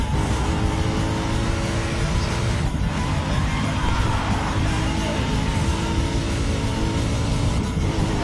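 A car driven in Battlefield Hardline's Hotwire mode gives a steady, loud engine drone with sustained harmonic hum and road noise, continuing unbroken throughout, with no talk over it.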